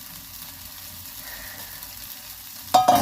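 Bhola fish mustard paste frying in a pan over raised heat, a soft steady sizzle with light stirring, ending in a brief louder scrape of the spoon against the pan.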